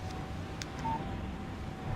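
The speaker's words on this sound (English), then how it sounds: "Text message from Barry." Short electronic text message notification tone from a phone in the Alan Wake video game, a brief bright beep heard once over a steady low hum of background ambience.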